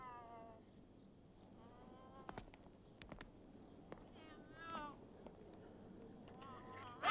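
An angry cat lets out several drawn-out, wavering meows at intervals over a quiet, faintly noisy background.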